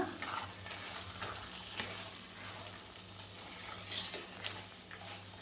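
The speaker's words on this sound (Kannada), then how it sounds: "ಇವಾಗ ನೆನೆಸಿಟ್ಟಿರುವಂಥ ರಾಜ್ಮಾ ಇದನ್ನು ಇದರೊಳಗೆ ಹಾಕ್ಕೊಳ್ತೀನಿ." Soaked rajma being stir-fried in masala in a pot, a faint, close sizzle with soft, irregular scraping and stirring strokes throughout, no voices.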